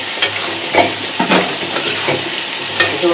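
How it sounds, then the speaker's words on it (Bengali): Taro corms stirred and fried with spice paste in a pan, a continuous close sizzle broken by several sharp scrapes of the spatula at irregular intervals. "তাহলে আমি যে কচুর মুখিটা দিয়ে ভালো করে কষামো"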